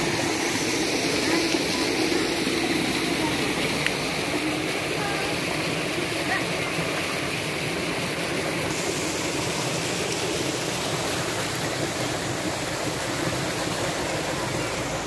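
Water from a curug waterfall spout at Situ Cikuda, Majalengka, pours down in a constant broad rushing hiss, loud and steady, with faint background voices.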